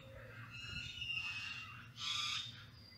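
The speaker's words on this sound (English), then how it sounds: "Tuning into the beautiful bird sounds of San Pancho, Mexico." Birds call in San Pancho, Mexico, with several high chirps and squawks from a moderate distance over a low outdoor background hum.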